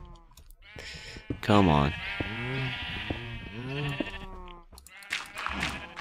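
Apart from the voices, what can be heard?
sheep bleating in Minecraft video game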